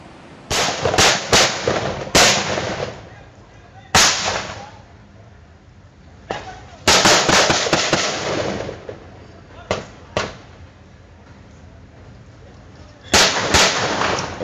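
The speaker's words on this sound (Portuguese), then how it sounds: "Olha o tiroteio na avenida, na linha vermelha, tudo parado." Gunfire in a shootout on the Linha Vermelha avenue in Rio de Janeiro, loud sharp cracks in scattered bursts and single shots with quiet gaps between them, heard from some distance.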